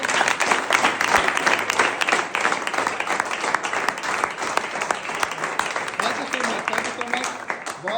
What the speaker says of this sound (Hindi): सबसे पहले मैं इन सब से चाहूंगा कि जोरदार तालियां बजाएं